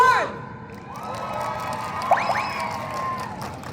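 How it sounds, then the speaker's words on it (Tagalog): A crowd cheers and whoops in a clapping contest at a comedy show, with loud shouts and children's voices rising at the start, then a sustained bed of crowd noise with a few sharp yelps midway. "Pinakamalakas sa palakpak, siyang mananalo."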